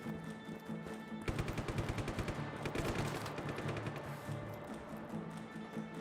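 Rapid automatic gunfire in Just Cause 3 rattles off as a dense, evenly spaced burst of sharp shots for several seconds, loud and close, then fades into a lingering noisy tail.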